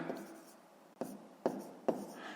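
A pen writes on paper while a fifth-grade math exercise is worked out, with a short scratchy stroke followed by three distinct taps and strokes at a quiet, close level.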